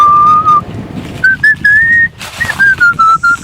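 A person whistles a clear, close, loud tune in steady held notes with short breaks between phrases, alone without speech.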